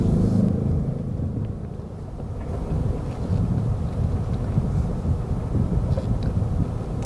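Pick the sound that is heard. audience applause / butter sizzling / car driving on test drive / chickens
car driving on test drive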